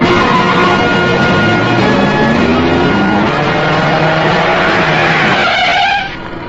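A car revving and pulling away on a street with tires squealing, loud and close, the engine note rising before cutting off abruptly near the end.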